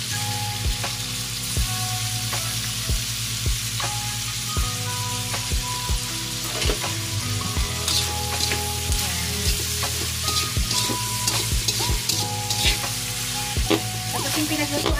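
Bacon fries in a pan with a dense, continuous sizzle and crackle, and regular scraping and stirring strokes run steadily through it.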